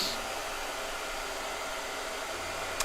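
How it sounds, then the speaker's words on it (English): A blow dryer runs steadily and close by, a constant whooshing hiss with no change in pitch throughout, heard alone without talk. "Blow dryer."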